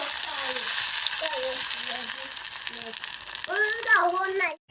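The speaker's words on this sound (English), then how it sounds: "you are going to fry until it is dried, making sure there is no yeast growing inside" Mango seeds and mango fruit fry in vegetable oil with a steady, close broadband sizzle throughout, while a voice hums or sings melodic tones over it before the sound cuts off abruptly at the end.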